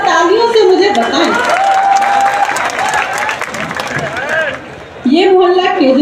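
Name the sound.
audience applause at a poetry gathering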